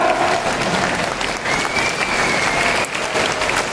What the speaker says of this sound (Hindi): तालियों की गड़गड़ाहट होनी चाहिए संत रविदास जी के पीछे तक